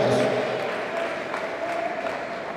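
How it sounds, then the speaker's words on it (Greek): Spectators in an indoor arena applaud three youth teams at a Greek boys' championship, a steady wash of clapping and crowd noise filling the hall throughout. "για να χειροκροτήσει και τις τρεις ομάδες"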